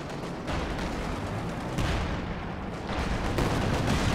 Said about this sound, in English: Now I can hear the artillery shooting here.